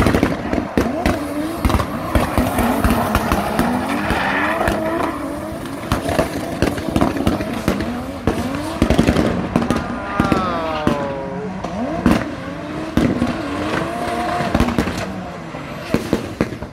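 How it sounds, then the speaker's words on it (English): A BMW drift car at a drift event pops and backfires, a fast string of sharp cracks over a loud revving engine and tyre noise, heard close and continuous throughout. "Look at him popping his engine, backfiring."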